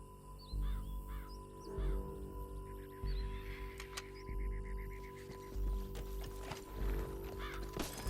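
Horse hooves clop in repeated bursts of heavy thuds as a rider moves in Red Dead Redemption 2, with crow caws and other game sounds mixed over them.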